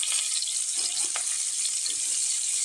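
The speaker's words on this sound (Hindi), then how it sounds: "फौरन और ये मेरा गोभी दोनों अच्छे से भुंजा जाएंगे।" Cauliflower frying in a pan with garlic, chilli and onion gives a steady, even sizzle with a few faint clinks and stirs, close and alone with no talk.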